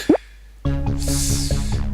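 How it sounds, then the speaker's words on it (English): A sharp cork pop sounds once, followed by a ringing, tonal fizz that lingers for a moment. "Cork pop."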